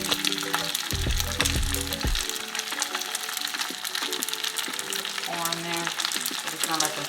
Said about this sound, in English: we're getting ready to pan fry these and get them crispy.